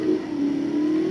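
Jaguar XKR engine in Need for Speed Most Wanted, a steady sustained drone holding a near-constant pitch throughout, loud and close with no talk over it.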